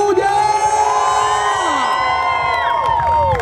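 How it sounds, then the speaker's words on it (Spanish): Crowd at a Colombian independence celebration in Guatemala cheers and whoops loudly, with many voices shouting and sustained high-pitched yells blending into a continuous noisy roar. "todo el que se sienta colombiano que haga una bulla"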